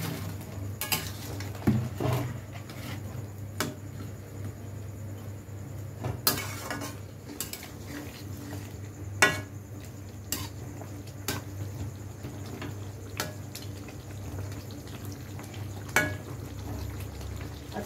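Water and fried chickpea-lentil fritters go into a simmering curry with scattered clinks of utensils against the pot over a low, steady bubbling hiss, each clink sharp and close.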